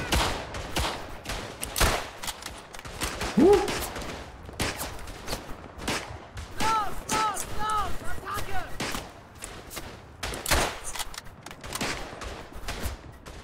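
Gunfire in the WWI trench shooter Verdun: sharp rifle cracks and scattered volleys ring out irregularly, some near and loud, others distant, with occasional talking over the shooting.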